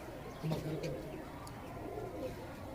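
A Kamagar-breed breeder pigeon coos softly nearby on a rooftop loft, a few low throaty calls rising and falling while a person talks faintly in the background.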